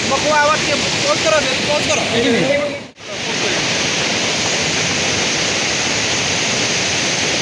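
A waterfall roars as dense, steady broadband rushing water, briefly dropping out for a moment before resuming; voices talk over the first few seconds.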